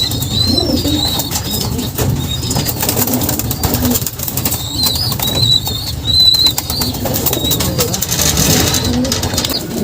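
A racing pigeon coos and flaps its wings on arrival at the loft after a 39 km training toss, with repeated high coos over outdoor background noise and a passing car.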